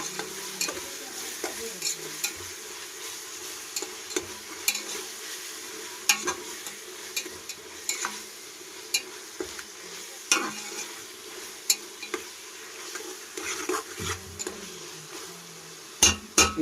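Chicken with ginger garlic paste being stirred in a pan, with steady sizzling and frequent scraping, clinking stir strokes throughout, fairly close and moderately loud.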